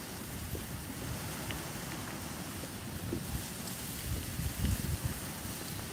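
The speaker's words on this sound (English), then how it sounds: "that wind's blasting down there" Wind blows steadily at a fishing spot on Martham Staithe in the Norfolk Broads, a constant loud rush with low buffeting gusts against the microphone and no speech.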